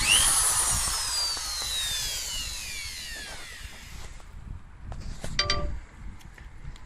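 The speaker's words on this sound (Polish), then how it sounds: "No i oczywiście wiertarka też działa." An electric drill runs off an inverter power supply, its motor whine loud at first and winding down as it slows, followed by a few clinks and light handling noises.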